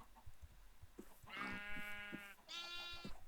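Sheep bleating in a farming video game, two drawn-out harmonic bleats close together, loud and near over a faint background, no talk.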